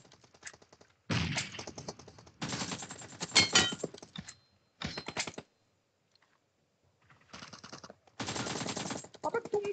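Gunfire in the mobile battle royale game PUBG/BGMI comes in several rapid automatic bursts separated by short pauses, close and sharp, with voices now and then.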